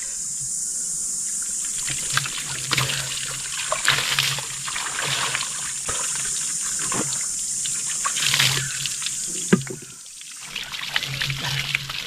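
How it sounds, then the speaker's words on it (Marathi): Cold water from a village well pours and splashes over a bather in repeated bursts, with trickling and dripping between pours and a gurgling low-pitched hollow slosh near the end, close and fairly loud. "असं थंड पाण्याने आंघोळ करण्याची जी मजा आहे"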